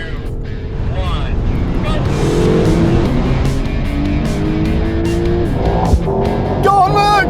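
Several performance cars, a Mercedes-AMG GT, BMW M8 Competition, Audi R8 and Porsche 911 Turbo, roll racing side by side, with a loud steady engine roar and wind noise throughout while people talk over it.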